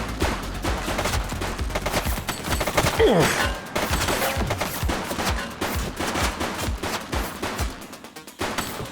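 Sustained, rapid gunfire rattles through a video game cutscene in The Precinct, a police chase, with near-continuous bursts of shots for the whole stretch and almost no talk.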